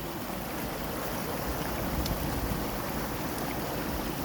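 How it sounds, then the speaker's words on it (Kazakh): Steady, full rush of a glacier-fed mountain stream in the Aksu-Zhabagly reserve, Kazakhstan, a continuous broadband roar without pauses, heard up close. "ледниктен бері осылай ағып атқан су"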